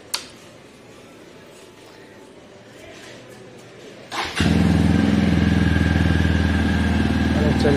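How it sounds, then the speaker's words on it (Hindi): A motorcycle, just wheeled out of a parking lot, is cold-started at about four seconds and settles into a loud, steady close idle, after a quiet stretch with faint background noise. "फटाफट से कोल्ड स्टार्ट कर देते हैं एक बार।"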